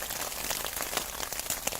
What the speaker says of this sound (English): So we are just holding station for the rain to stop, which it should do sometime in the next hour.